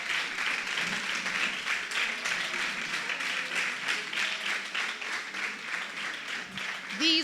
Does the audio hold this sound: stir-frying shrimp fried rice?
no